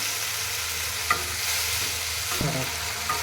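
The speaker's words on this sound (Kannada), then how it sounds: "ಚೆನ್ನಾಗಿ ಫ್ರೈಯನ್ನು ಮಾಡಿಕೊಂಡು" Vegetables frying in a pan for a fenugreek leaf and mixed vegetable dish, a steady sizzle with a couple of sharp spatula scrapes and knocks, close and alone.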